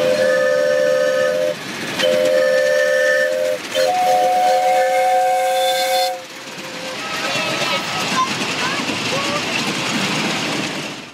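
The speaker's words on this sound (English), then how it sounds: "making for a great sight and sound with steam locomotives climbing the gradient" Miniature steam locomotive whistles blow in long, loud blasts, followed by the chuffing and rumble of small-gauge trains working hard up a gradient close by, in New Zealand.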